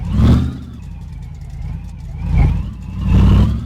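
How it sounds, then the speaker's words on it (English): Loud car engine with no exhaust system fitted, in the driving game My Garage, revving in three surges with a rough, low rumble idling between them. "It's just very loud without an exhaust system."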